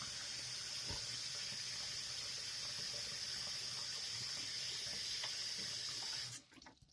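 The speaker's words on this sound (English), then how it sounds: "it takes a long time for the hot water to get to the sink" Tap water runs steadily into a sink in a home bathroom on a cold day, a close, continuous hissing splash that stops abruptly at the end.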